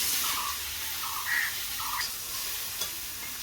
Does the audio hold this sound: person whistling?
no